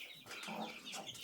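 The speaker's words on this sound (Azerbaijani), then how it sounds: "Astral toyuğumuz." A purebred German Australorp hen clucks softly in a short, faint burst of low chatter, heard on its own.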